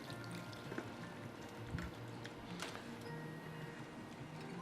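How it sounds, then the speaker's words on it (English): Water poured from a small measure into a thick, dark simmering cooking sauce, a soft brief pour and trickle heard close up under low kitchen background noise. "And we're going to add in the water."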